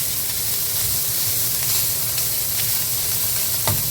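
Sausage and onions sizzling steadily in a pan for a Tex-Mex breakfast, a dense, loud, continuous frying hiss up close with a few faint clicks, no talking.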